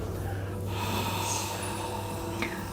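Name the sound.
man breathing into a knot during witch spell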